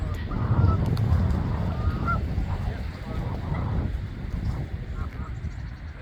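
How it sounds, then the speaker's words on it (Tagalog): A flock of geese honks loudly near an autumn waterside in Regina, Saskatchewan, giving overlapping calls with wind and wingbeat rush as the birds take off together, with a voice talking over them. "mga geese, but meron din seagull."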